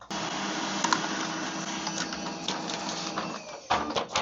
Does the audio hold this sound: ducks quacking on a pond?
no